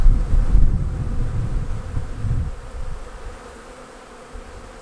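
Honeybees buzz around a hive entrance in an apiary after a swarm has moved in, a close, loud low drone that fades gradually to a softer hum, with no talk.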